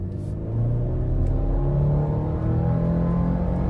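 A 2026 Chevy Colorado TrailBoss truck speeds up on the road, its engine droning and rising steadily in pitch, close and prominent, with no talking.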